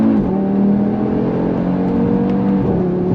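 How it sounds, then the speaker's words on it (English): An Audi TT RS engine revs hard and steadily under acceleration in second gear through a turn, loud and close, with a droning whine holding through the whole stretch and no voices. "I'm in second gear, in the turn, on throttle."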